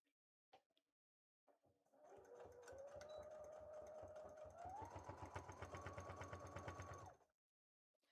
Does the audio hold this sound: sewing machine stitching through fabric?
yes